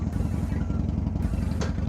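Harley-Davidson Iron 883 motorcycle riding on an interstate, its engine a steady loud low throbbing drone with wind noise throughout.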